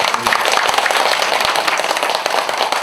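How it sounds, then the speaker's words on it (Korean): Audience applause at a Buddhist temple ceremony, the 2024 Bowonsa water-and-land ritual: dense, steady clapping from a crowd for about three seconds, with a few louder nearby claps standing out. "박수 좀 한번 쳐주세요"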